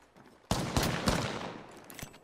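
A burst of close gunshots in a video game arena: after a quiet opening, several sharp loud reports in quick succession followed by a decaying rattle and one more shot near the end.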